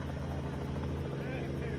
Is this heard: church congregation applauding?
no